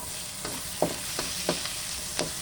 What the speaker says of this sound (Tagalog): So, maglagay na tayo ng ating bawang. Dinorog na bawang.